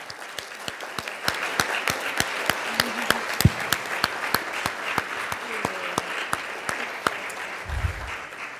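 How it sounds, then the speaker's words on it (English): Audience applause at a leadership institute family panel, a steady wash of clapping with sharp, regular hand claps standing out close by, plus a brief low thump near the end. "Let's give them an initial round of applause"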